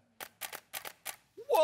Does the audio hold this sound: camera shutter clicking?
yes